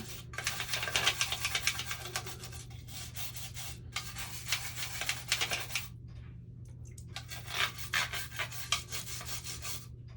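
Lego pieces get scrubbed during washing, producing bursts of brisk rough brushing and rubbing strokes with short pauses between them, close but fairly quiet over a low steady hum.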